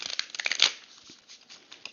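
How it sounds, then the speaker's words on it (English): Tarot card deck riffled and shuffled by hand in quick bursts of soft papery flicks, close and quiet, with no talk. "I'm shuffling my deck right now."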